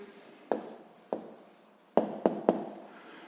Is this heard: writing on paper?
yes